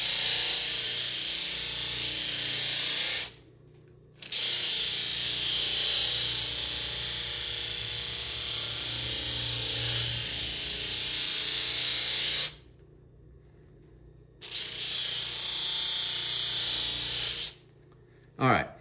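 The rough raw edge of a leather knife sheath being power sanded, a steady loud whirring grind in three long bursts broken by brief silent gaps.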